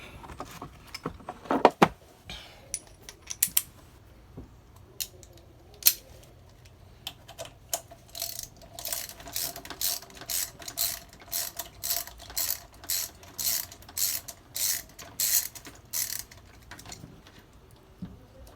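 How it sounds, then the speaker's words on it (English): A ratchet with an extension turns a small radiator bolt on a 2008 Suzuki GSX-R, a quick run of crisp rapid clicks after some scattered metallic handling noises, close up and with no talk. "we're going to go on the other side and take the other bolt out"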